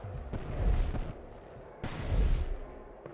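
Two heavy, booming blasts from the Depulso spell in the Harry Potter and the Order of the Phoenix video game, each a thudding burst followed by a rumbling decay, spaced about a second and a half apart.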